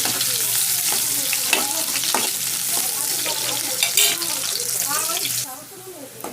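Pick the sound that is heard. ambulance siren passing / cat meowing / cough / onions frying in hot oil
onions frying in hot oil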